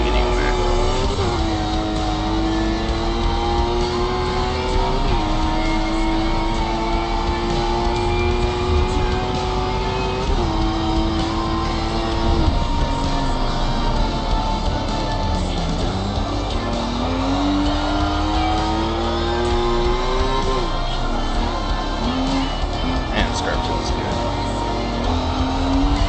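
A Class B race car in a racing video game revs and accelerates loudly, its engine pitch climbing through several gear changes with drops between shifts, sustained and close over about twenty-five seconds.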